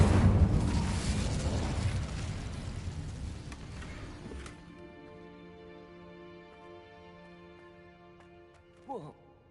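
A burst of roaring, crackling fire from the Incendio spell in a video game. It starts loud and broad, rumbles for about four seconds, then dies away under faint tonal game music, with a short swoosh near the end.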